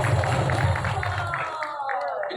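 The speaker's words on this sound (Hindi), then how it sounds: "जोरदार ताली." A crowd applauds and cheers for an actress called on stage at a Mumbai trailer press meet. The noise is dense and continuous, with an amplified voice over it and the clapping thinning toward the end.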